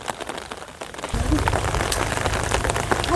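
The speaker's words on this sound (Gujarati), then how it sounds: "વરસાદ છે અત્યારે ચાલુ જ છે" Rain patters steadily on a surface during monsoon flooding in a village, close and continuous, with a low rumble joining partway through and faint voices mixed in.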